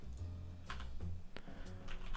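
Someone types on a computer keyboard in short irregular bursts of soft clicks and taps, close and quiet, with no talking.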